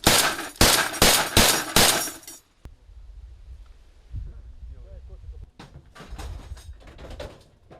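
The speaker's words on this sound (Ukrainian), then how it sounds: "Увага! Постріл!" A rapid series of loud, sharp gunshot bursts rings out up close at firing positions near the front line in Donetsk region, then fades into a low rumbling background with a few more distant cracks.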